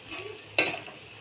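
Rice goes into a hot pan and is stirred, making one brief, bright rustling scrape over a low background sizzle.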